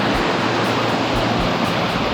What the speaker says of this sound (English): so I found this waterfall.